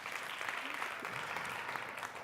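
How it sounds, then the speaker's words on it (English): Audience applause closing a radio marketing masterclass event, a steady wash of clapping from a crowd heard at moderate distance, even and continuous throughout. "One last round of applause to them, please."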